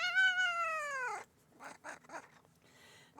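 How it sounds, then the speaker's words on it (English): A cat gives one long, loud, drawn-out meow that falls in pitch at the end. Quieter, softer mews and chirps follow close by, with no talking. "He says, meow meow."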